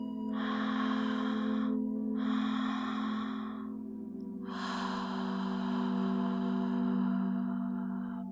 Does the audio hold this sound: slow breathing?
yes